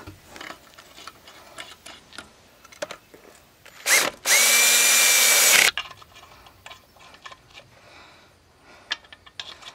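A power tool tightens the front wheel axle nut on a 2008 Chevy Impala in one loud whirring burst of under two seconds, with quiet clicks and handling noise before and after.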